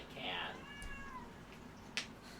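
A cat meows: a rising, wavering meow up close at the start, followed by a softer drawn-out second cry, over faint background hiss.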